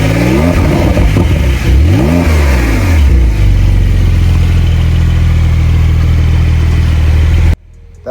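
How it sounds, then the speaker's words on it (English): A Porsche 911 Carrera GTS with a 3-liter twin-turbo flat-six revs twice in sharp rising and falling sweeps, then settles into a loud steady idle before cutting off abruptly near the end. "The car is powered by a 3-liter twin-turbo flat 6 pushing 473 horsepower and 570 Nm of torque."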